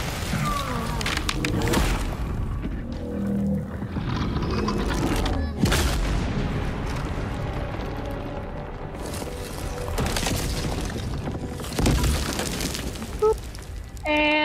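Trico's tail lasers blasting and destroying things in The Last Guardian, a loud run of booming blasts and crashing impacts over busy game noise, with bursts of breakup and a voice speaking at times.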